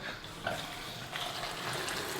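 Water runs and splashes into a mix of cinnamon, a steady pouring gush with a couple of brief splashy surges, close and moderately loud, with no talking.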